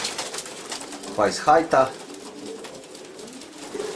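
Racing pigeons coo in a loft, a few soft throaty calls close by in a short cluster, under a person speaking.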